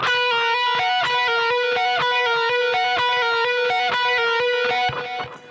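A distorted electric guitar plays a fast repeating lick, the same rhythmic figure looping several times before ringing out at the end.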